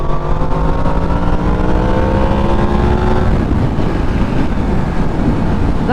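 A Yamaha MT-10 motorcycle pulls away in fourth gear. Its loud engine note rises steadily for a few seconds, then fades into heavy rushing wind noise as speed builds.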